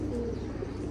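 A collared dove (fakhtaya) coos softly in a home balcony setting, a short low-pitched call heard close and alone against faint background noise.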